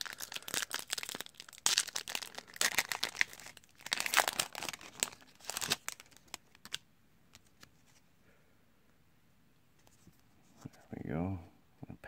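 A Pokémon Crimson Invasion booster pack wrapper is torn and crinkled open in bursts of sharp foil rustling, then goes quiet before a short, tonal scrape at the end.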